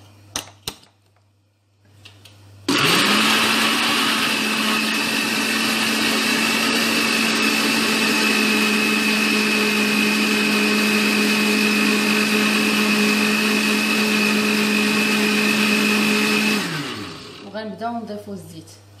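An electric blender runs steadily for about fourteen seconds, mixing cheese and other sauce ingredients for grilled chicken, with a loud constant motor whine that starts abruptly and winds down at the end.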